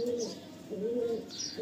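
A white-headed female pigeon coos close by, two soft, rolling coos in quick succession at low volume, with no talking over them.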